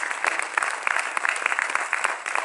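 Loud, dense applause from an audience at an Urdu poetry recital, honoring a family's children and sister-in-law; steady crackling claps with crowd noise fill the whole stretch without letup.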